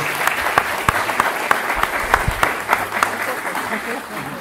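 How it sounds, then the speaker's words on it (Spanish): An audience at a memory and justice conference applauds a speaker, close, loud clapping with distinct sharp individual claps over a continuous bed of crowd applause that eases slightly at the end. "un aplauso."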